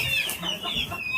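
A fighting rooster clucks in a few soft, repeated notes at moderate distance over a steady background hum.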